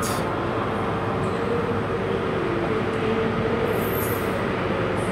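ScotRail class 385 electric unit 385118 arriving into Glasgow Queen Street platform on a terminating service from Edinburgh Waverley, a steady rolling rumble and hum with brief high wheel squeals, continuous and fairly close.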